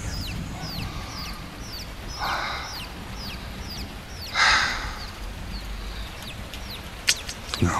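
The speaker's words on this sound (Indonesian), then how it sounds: "Tengah malam suara anak ayam lagi." Baby chicks peeping at midnight, a string of thin high chirps repeating steadily over a low rumbling background, with a couple of brief louder noises interrupting.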